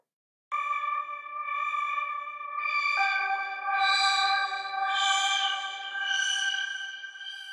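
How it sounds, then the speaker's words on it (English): A ghostly, airy synthesizer holds sustained tones that shift pitch partway through, with breathy swells rising and falling in a steady rhythm and no voices. "Kind of a ghostly, airy, synthesized kind of sound."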